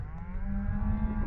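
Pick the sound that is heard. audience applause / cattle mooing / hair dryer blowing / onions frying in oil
cattle mooing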